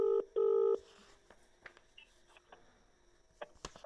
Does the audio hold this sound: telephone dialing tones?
yes